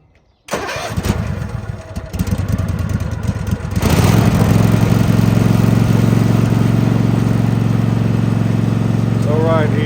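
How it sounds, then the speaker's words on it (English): A riding lawn mower engine cranks, catches and runs unevenly, then settles into a loud steady drone with a persistent hum, while the machine has a dying fault linked to the brake pedal. "the engine's still dying"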